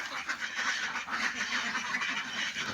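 A flock of ducks on a simple duck farm keeps up a dense, continuous chorus of overlapping quacks, loud and close, with no pauses.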